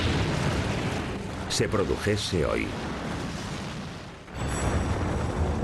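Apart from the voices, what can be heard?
Yellowstone supervolcano mega-eruption explosion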